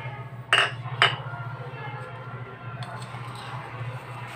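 A spoon clinks twice against a bowl while salt is added for Arabian chicken mandi rice, two sharp metallic taps close together over a steady low hum, then softer faint scraping.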